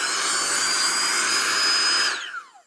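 A GOPUSA portable air compressor and inflator runs in blower mode, a loud steady high-pitched whirring hum held close for about two seconds before it switches off and spins down with a falling whine.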